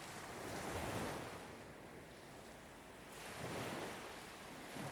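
Ocean surf breaks below an Australian headland, a continuous wash of waves with two gentle swells in loudness, heard from a distance with some wind over the microphone.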